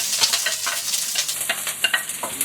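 Garlic and onion sauté together in hot oil in a pan for Filipino sopas, a steady close sizzle broken by scraping stirs with a utensil.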